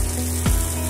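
Tomato puree made from two large blended tomatoes goes into a pan of sizzling garlic-ginger paste, giving a loud continuous sizzle with a short splashy hiss as it lands.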